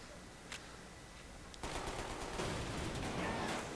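Gunfire in the video game Project Nova as a pole is shot: faint, sustained rattling bursts, quiet at first and then growing denser and louder after a sharp onset.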